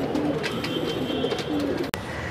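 Lal Galwe pigeons, a pink-beaked pair, cooing softly in repeated low throaty calls, fairly close, with a short sharp knock partway through.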